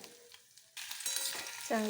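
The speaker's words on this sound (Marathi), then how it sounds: "हे रताळीचे काप आपण याच्यामध्ये टाकून शिजवून घेऊ." Sweet potato slices drop into hot ghee in a pan. Quiet at first, a sudden sizzle then starts and holds steady, with a sharp scraping clatter near the end.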